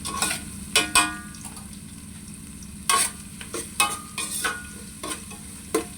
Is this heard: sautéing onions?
yes